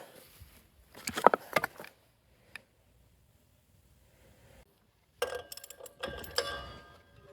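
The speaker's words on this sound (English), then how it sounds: "when you're unscrewing these bolts that the threads are the opposite to normal" A ratcheting wrench clicks in short bursts while bolts are loosened on a sawmill blade, close and metallic, with quiet gaps between bursts and no talking.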